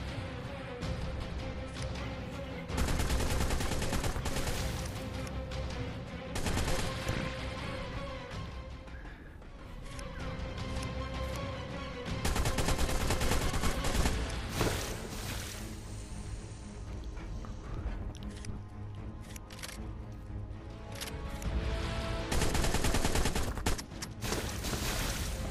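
Gunfire in the video game ARK: Survival Evolved during a Manticore boss fight, dense bursts of rapid shots that come and go in waves over a busy game soundscape, fairly loud and continuous, no clear talk.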